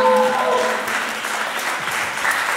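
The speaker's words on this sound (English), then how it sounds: "Please give a round of applause for Treasure Bon Bon, a.k.a. Trevor Bonsong." A crowd applauds a performer at a live show, a full sustained roar of clapping that stays loud and even throughout, with a brief voice at the start.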